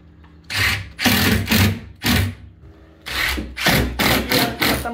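A power drill drives two-inch screws into drywall during a patch repair, with a series of loud, close whirring bursts, some short and some longer, separated by brief pauses.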